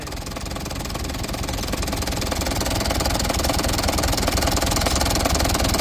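A long-idle old engine, brought back to life, runs close by with a loud, steady, rough clattering idle that builds slightly over a few seconds.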